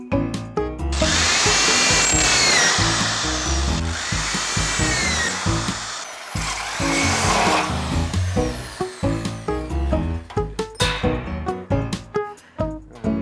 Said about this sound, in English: Dennis's favourite tool, the drill, which he uses for pretty much anything